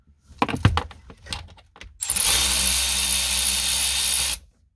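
A ratchet loosens bolts on a 2000–2005 Buick LeSabre during heater core removal: a few sharp clicking strokes, then a steady, loud whirring run lasting about two seconds before it stops.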